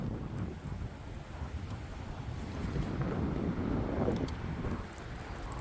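Strong, gusting wind buffets the microphone on a lake while bass fishing from a boat, a steady low roar that rises and falls in waves, with no talking.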